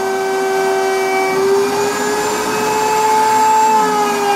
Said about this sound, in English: you can hear it cutting into the Baltic birch